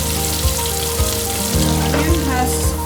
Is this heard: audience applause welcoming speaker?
no